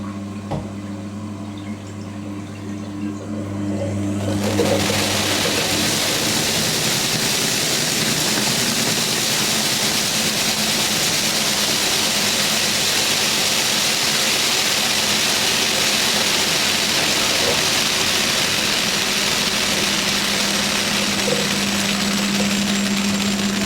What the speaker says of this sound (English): I'll just spin 650 RPM burst.